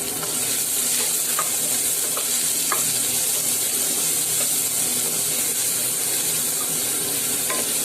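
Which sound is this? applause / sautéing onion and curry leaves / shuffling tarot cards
sautéing onion and curry leaves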